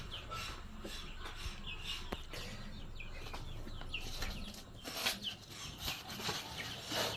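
Merawang chickens clucking and shuffling in their pen while they wait for feed, a steady scatter of soft calls and rustling with a few louder squawks and wing movements toward the end.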